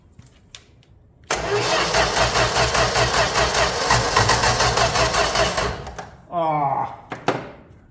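A 1965 Plymouth Valiant 100 with a slant six cranks hard for several seconds in a loud rhythmic churn without catching, then stops; a short second crank burst follows, with faint talk at the start.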